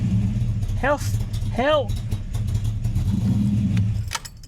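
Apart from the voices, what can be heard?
project car engine revving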